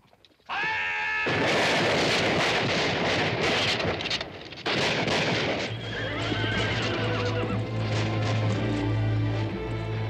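In a western film, horses whinny and neigh loudly over a dense wash of hooves, wind and commotion as cavalry troopers dismount, with the noise running on steadily for several seconds.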